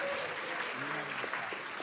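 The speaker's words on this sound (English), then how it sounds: "Let's have a huge, enthusiastic round of applause for our judges, our panels, our winners, and Max Shore" Applause from the audience at the UN Youth Climate Summit, a steady, moderately faint patter of many hands clapping, with a voice faintly audible under it.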